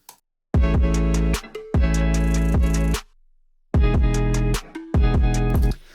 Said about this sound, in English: this synth impact that I just took and pitched it up and down to match the guitar